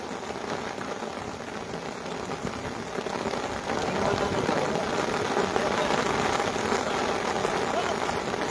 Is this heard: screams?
no